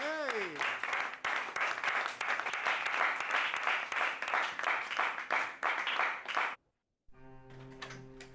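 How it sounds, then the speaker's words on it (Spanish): An audience applauding loudly and continuously for about six and a half seconds, dense even clapping that stops abruptly before a short musical tone follows. "yo les pido un fuerte aplauso para Alfredo Quintana"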